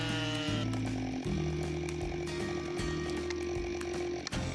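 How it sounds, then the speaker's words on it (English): A Husqvarna 572 XP chainsaw with a 70.6 cc engine runs steadily, its loud buzzing roar rising and falling slightly in pitch as the throttle shifts, with no voices over it. "Conquering massive timber stands is none other than the Husqvarna 572 XP chainsaw."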